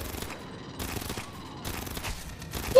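Turret gunfire in the video game Aliens: Fireteam Elite: rapid automatic bursts that start and stop in several clusters, loud and close, with a sharp blast at the very end.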